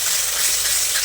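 Water poured into frying spice paste for a jackfruit curry bursts into a loud, close, continuous steamy hiss lasting about a second, with no voices.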